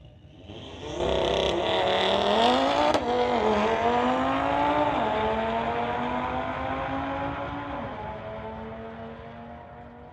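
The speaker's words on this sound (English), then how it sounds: "134 miles an hour for that Audi in the TCS lane" An Audi race car launching down a drag strip at a street-legal drag racing event, a loud engine roar climbing steeply through the gears with rising pitch, then a long sustained high-speed wail that fades slightly as it pulls away.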